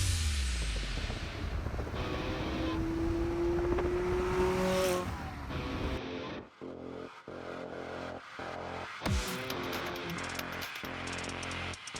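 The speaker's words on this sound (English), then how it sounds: "That's a 2020 McLaren 600 LT." A 2020 McLaren 600LT sports car drives by, its engine rising in pitch as it accelerates, then sharp gear changes and revving bursts, with a tire squeal, heard at moderate distance.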